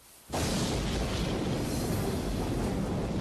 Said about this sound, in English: the steamboat Sultana was rocked by a boiler explosion